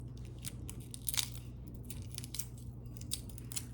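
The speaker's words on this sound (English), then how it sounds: "Look at that peeling off so nicely." Shell being peeled by hand from a hard-boiled farm-fresh egg over a bowl, giving faint, irregular crackles and small crunchy snaps over a low steady background hum, with no voices.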